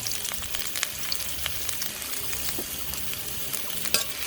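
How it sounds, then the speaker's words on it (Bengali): Chopped onion and bay leaf fry in oil in a wok, a steady close sizzle with scattered crackles and pops, no voices over it. "এখন আমি পেঁয়াজ কুচিটাকে ভেজে নিব"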